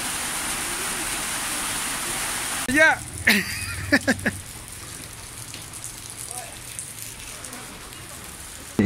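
Heavy rain pours steadily in Copacabana, Bolivia, a dense hiss that fills the whole scene, with a few brief knocks and a short spoken exclamation partway through.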